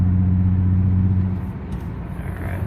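A car engine misfiring drones low and uneven as it accelerates, its deep rumble wavering and stumbling rather than rising smoothly, heard from inside the vehicle.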